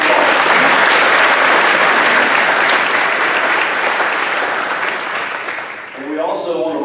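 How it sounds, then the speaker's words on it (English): A luncheon audience at a chamber of commerce event claps loudly and steadily for sponsors, a dense roomful of hands that thins toward the end as a voice begins speaking over the fading applause. "Please give a round of applause to all these sponsors."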